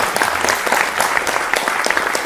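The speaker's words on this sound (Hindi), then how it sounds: "अरे ताली तो बजा दिया करो ना।" An audience claps at a Hindi TV panel discussion, a short burst of dense, lively applause that runs steadily throughout.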